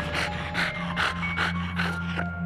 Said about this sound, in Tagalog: nakarinig siya ng tunog ng parang hinihingal na aso